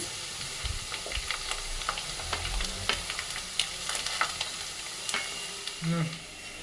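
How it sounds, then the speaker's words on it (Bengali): Steady sizzling of carrot, capsicum and beans frying in a hot wok, with scattered crackles and occasional scraping stirs throughout. "দেখো গাজরটা ভাজা ভাজা হয়ে এসছে"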